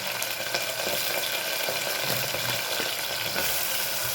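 Onions and potatoes frying in a pan, a loud continuous sizzle with occasional stirring scrapes, no talking.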